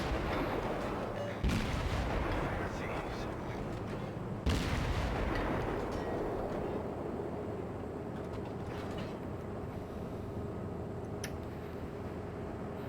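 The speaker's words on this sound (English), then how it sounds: "I'm still trying the reload time of my guns." Naval guns firing in World of Warships, a few loud booming salvos with sharp onsets near 1.5 and 4.5 seconds over a steady rumbling battle background.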